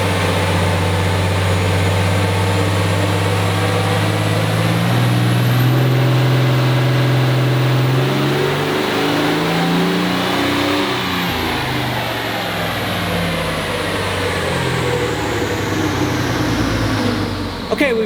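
A 2019 Ram diesel truck with a CP3 swap and VGT turbo runs hard on a dyno, its loud engine roar climbing steadily in pitch and then holding at high revs with a turbo whine on top.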